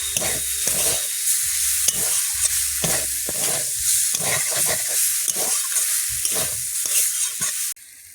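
Vegetables sizzle and hiss loudly in a hot pan, with repeated scraping stirs breaking the steady frying noise.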